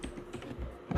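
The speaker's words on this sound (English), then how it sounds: "you're going to be typing in the extension while you save" Steady typing on a computer keyboard, key clicks coming in a quick, even run of taps at close range, with no voices heard.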